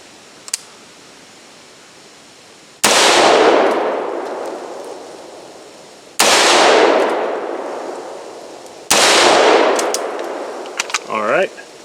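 Three loud unsuppressed rifle shots firing XM193 55 grain full metal jacket ammunition, each a sharp crack followed by a long decaying echo, evenly spaced with no talking.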